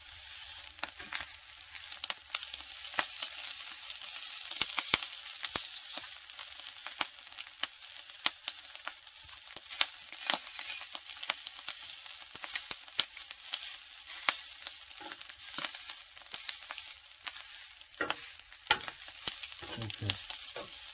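Rice for cup ramen fried rice sizzles quietly in a pan while it is stirred and broken up, with frequent scraping and clicking stir strokes over a constant soft frying hiss.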